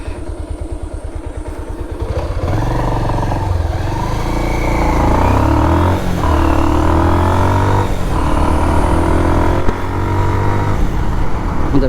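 Bajaj Pulsar motorcycle cruising at a steady 50 km/h on a narrow road, its engine droning loud and continuous with a rising hum as it settles into speed and slight rattles over the road surface.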